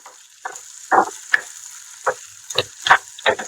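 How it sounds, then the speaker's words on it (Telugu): Drumstick pieces frying in hot oil for a cashew curry, with a steady sizzle under repeated scraping stirs of a spoon in the pan, close and moderately loud with no talk. "ఇప్పుడు బాగా మిక్స్ చేసుకుని ఆయిల్లో కూడా ఇవి ఫ్రై అవ్వాలి ములంకాయలు అనేవి."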